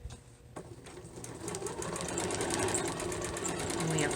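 A sewing machine stitches a fabric face mask in a community library class, running as a fast, steady mechanical whir up close with faint background voice.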